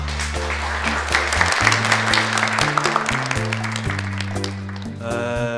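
Applause greeting a company chairman at a village resort event, steady clapping under loud music with a strong bass line, fading near the end.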